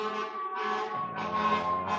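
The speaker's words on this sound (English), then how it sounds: "Sorry for the ambulance." Ambulance siren, a wailing tone that rises and falls in long sweeps, heard at moderate volume and continuing without interruption, with no one speaking.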